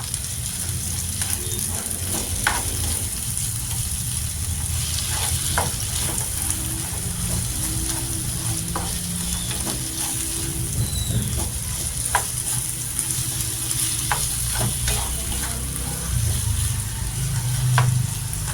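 Shrimp paste sizzles and fries with eggplant in a pan, with a steady loud sizzle and repeated scraping stirs, close and continuous without talk.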